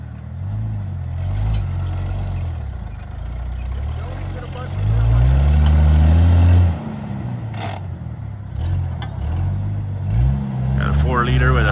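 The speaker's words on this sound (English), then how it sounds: "My Jeep's motoring along just fine" Jeep Grand Cherokee with a 4-liter engine and 5-speed rumbles along a snowy mountain trail, a low steady drone that swells louder for a few seconds midway before easing back, with people talking over it.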